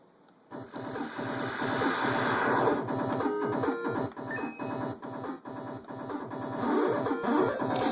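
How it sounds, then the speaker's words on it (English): A busy stream of 8-bit chiptune-style bleeps and buzzy tones from the Ouya game Game Catcher, layered and continuous, loud and steady without pauses or voices. "I got the 8-bit sound effects from a website"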